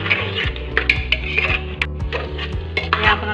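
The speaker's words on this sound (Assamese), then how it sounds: "গতিকে আমি ধুনীয়াকৈ ভাজি ল'ম।" Spiced chicken frying in a pan while a utensil stirs and scrapes it, giving a steady sizzle cut through by repeated sharp clinks and knocks of metal on the pan, close and fairly busy, with no talk.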